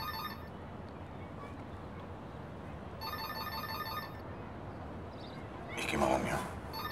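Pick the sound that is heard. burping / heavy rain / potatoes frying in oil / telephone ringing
telephone ringing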